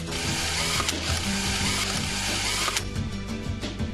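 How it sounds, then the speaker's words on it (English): Rapid ratchet clicking from a wrench tightening bolts on a Pulsar RS200/NS200 engine during assembly, a dense, steady run of close metallic pawl ticks lasting the whole time, with no voices. "Fit the 10 bolts. Tighten them to the specified torque as shown."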